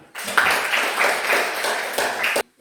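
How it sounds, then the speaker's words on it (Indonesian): Students in a classroom break into a burst of dense, close hand clapping that lasts a couple of seconds before cutting off abruptly. "tepuk tangan"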